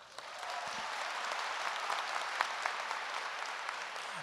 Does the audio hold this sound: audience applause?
yes